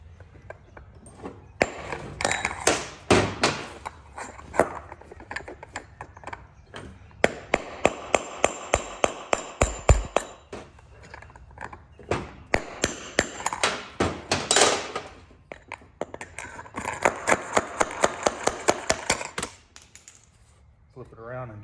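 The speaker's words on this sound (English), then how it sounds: "we're going to have to knock out these bearings. Just use a brass drift punch and a hammer." A hammer drives a brass drift punch to knock bearings out of a zero-turn mower wheel, striking in fast rhythmic bursts of sharp metallic taps with short pauses between rounds, close and loud.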